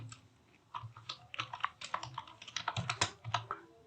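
Typing on a computer keyboard while entering a channel name in an MS-DOS lesson, a quick irregular run of close, crisp key clicks in bursts, with no voices.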